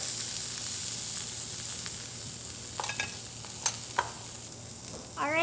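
Shrimp cooking in a cast iron pan give a steady, quiet sizzle, with a few scraping clicks of a utensil being moved around near the end.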